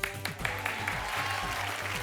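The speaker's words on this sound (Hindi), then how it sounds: "ताली तो बजाओ जो बैठे लोग" A seated studio audience at a Hindi celebrity talk show claps steadily, a continuous patter of many hands over a low background hum.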